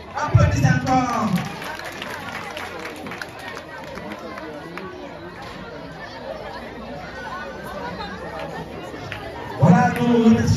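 Steady crowd applause and murmuring at a school award ceremony in Diawara, with louder bursts of voices near the start and end over continuous clapping.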